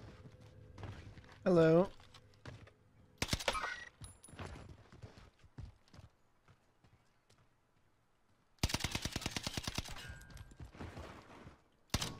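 Whitley assault rifle firing in Warzone, two sharp bursts of rapid rattling shots, one short and one longer, separated by quieter footsteps and game sounds, with a brief spoken exclamation early on.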